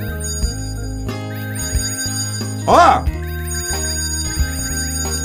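A bright electronic bell-like doorbell ring in the video game Hello Neighbor chimes over steady synthesized game music, and a child-like voice cries out briefly in the middle.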